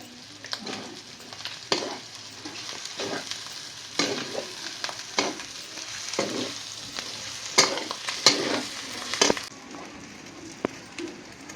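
Fresh field beans and vegetables sizzle in a frying pan while a spoon stirs and scrapes in uneven bursts, fairly soft and close, with no talking.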